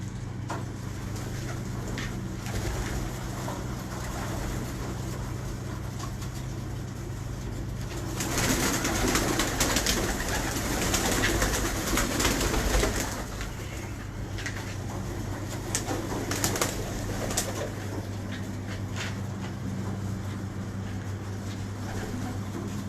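Pigeons cooing softly in a loft, low repeated calls over a steady background hum, with a louder rustling burst midway.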